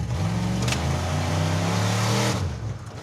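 The Mazdarati project car accelerates at full throttle, its engine roaring loud and close in a steady drone for over two seconds before cutting off and fading, with no voices over it.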